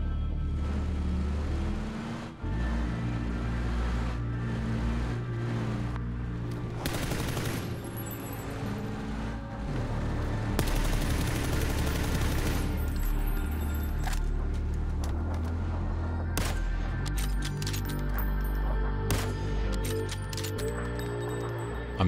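Gunshots in PUBG solo gameplay, a dense and noisy battle soundscape with repeated sharp gunfire cracks over a steady background rumble, loud throughout.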